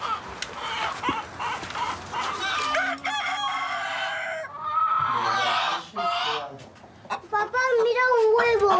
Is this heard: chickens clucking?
yes